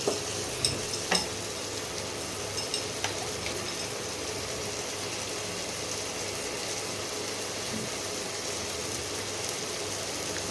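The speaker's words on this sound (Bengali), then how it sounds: "সামান্য একটু জল দিচ্ছি নাহলে মশলাটা পুড়ে যাবে" A splash of water meets spice masala frying in a pan for an egg and cauliflower curry, producing a continuous soft hiss and sizzle with a few light utensil taps at the start.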